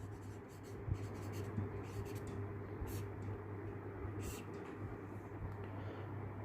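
A marker or chalk writes on a classroom board, producing faint, scratchy strokes in short bursts over a low steady hum in a quiet room.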